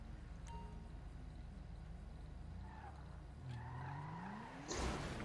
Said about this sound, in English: I hit that cop's car on accident